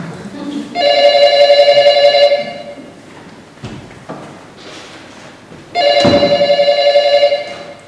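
A telephone bell rings in two loud bursts with a pause between them, close by, in a quiet room with faint background movement.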